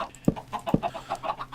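Minecraft chickens clucking in a game pen, short pecking clucks in an uneven rhythm with a couple of sharper notes, close and moderately loud.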